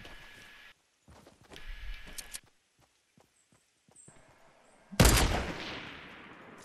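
Gunfire in the video game Fortnite: a few sharp distant cracks and taps followed by a loud near burst of shots that rings off, with no talk over it.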